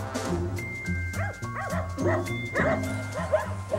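A female farm dog barks and yips repeatedly at close range in short excited bursts, with a few whimpering notes between them and some voices in the background.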